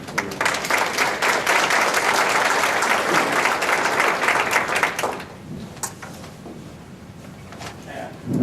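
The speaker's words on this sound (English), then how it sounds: "please a warm round of applause for Dr. David." A lecture audience at a medical talk on dementia breaks into dense, loud applause for about five seconds, then it fades to scattered claps and room noise.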